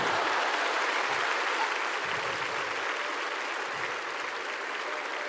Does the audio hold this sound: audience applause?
yes